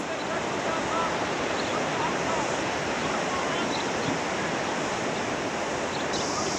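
Steady broadband surf washing in at Muriwai Beach, New Zealand on a busy day, a continuous wash with faint wind and a distant murmur of beachgoers throughout.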